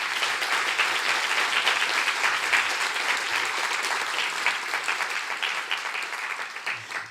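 A meetup audience claps in sustained, even applause for the organizers, a broad wash of hands at moderate loudness that slowly tapers near the end.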